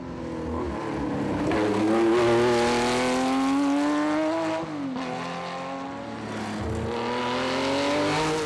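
Porsche race cars, including a 906 and a 910, blast through a Tour Auto special stage on a public road, a loud high-revving engine climbing and shifting through gears as it passes close by.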